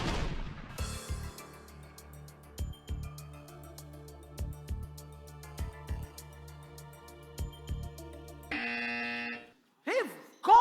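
A campus quiz competition buzzer sounds as a string of short electronic beeps and stings at irregular intervals, followed by a longer sustained buzz tone near the end.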